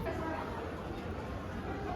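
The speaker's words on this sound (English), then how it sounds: "There was a big crowd as all the Atlus fans in Japan showed up" A crowd of Atlus fans chatters at a festival in Akihabara, Japan, forming a steady hubbub of many overlapping voices close by with no single speaker standing out.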